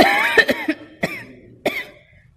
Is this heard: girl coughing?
yes